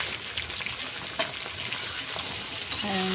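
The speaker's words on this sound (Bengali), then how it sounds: "এখানে যে তেলটা গরম হয়ে গেছে আমি যে অলরেডি দিয়ে দিয়েছি বেশি কষাবো না একদম হালকাভাবে একটু কষিয়ে নেব" Vegetables for shukto being lightly sautéed in hot oil, a steady close sizzle with brief clinks and scrapes of stirring throughout.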